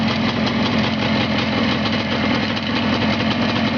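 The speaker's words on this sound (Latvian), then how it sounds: "Šitās motors prieks strādāt, prieks klausīties." An engine fitted with an extra carburettor neck idles smoothly and evenly, a steady low rumble heard up close and alone.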